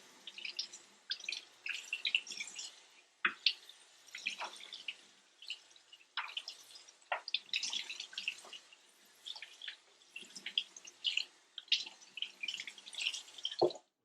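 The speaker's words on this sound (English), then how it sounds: "So now what we do is just rinse it off. Warm water always works best." Warm tap water splashes and patters irregularly as a motorcycle helmet visor is rinsed under it, with close, uneven bursts of flow and drips continuing for about fourteen seconds.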